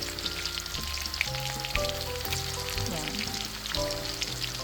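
Chopped onion sizzling in a hot pan for a homemade sauce, a steady bright crackle throughout, with a short spoken word over it.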